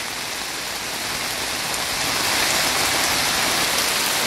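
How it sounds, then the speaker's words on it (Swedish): Heavy rain falls in Greece in a constant, dense hiss that swells slightly louder partway through, with no other sounds. "Ett uppfriskande regn."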